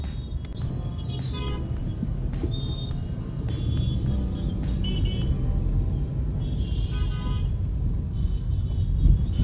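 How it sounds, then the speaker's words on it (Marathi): Dense road traffic jammed by road works rumbles continuously with idling and moving engines and occasional horn toots, close and loud, no one speaking. "म्हणून ट्रॅफिक जाम आहे इथं"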